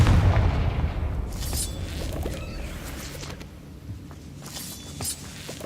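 Confringo fire spell going off in Hogwarts Legacy, a dull booming blast at the start that fades into a rumbling tail with scattered crackles and game effects.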